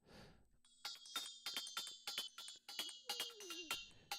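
A bright, synthetic lead sound in short rhythmic stabs over a steady hardgroove techno beat, with one gliding pitch bend near the end.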